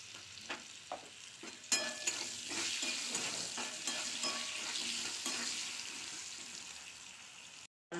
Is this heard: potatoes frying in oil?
yes